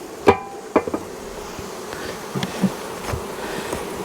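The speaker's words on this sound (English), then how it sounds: "I'll find some good nurse bees" Honey bees buzzing in a long hive during an inspection, a steady close hum with occasional louder passes near the ear and a few soft knocks of frames, no talking.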